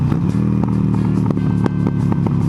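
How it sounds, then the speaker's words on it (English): A Harley-Davidson 1200 Sportster 48 fitted with a Vance & Hines exhaust rumbles loudly while being ridden, a deep, throbbing engine note with steady pulsing and occasional sharp mechanical knocks, close and continuous. "I'm test riding the Harley Davidson Sportster. And first thing you can hear is that it's fucking loud!"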